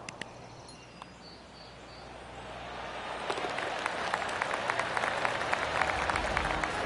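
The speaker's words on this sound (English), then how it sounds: "That deserves a golf clap." Scattered golf crowd applause in the PGA Tour 2K25 video game at TPC Sawgrass during The Players Championship, starting faint over outdoor ambience and swelling into a steady, moderately distant clapping that continues to the end.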